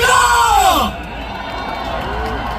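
A crowd at a Korean political rally erupts in loud cheering and whoops, then drops suddenly to a lower murmur with scattered shouts continuing in the background.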